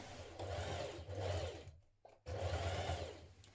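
A home sewing machine running steadily while stitching a collar seam with a 0.6 cm allowance on a summer skirt set, a close, even whirring hum that stops briefly for a pause and then resumes.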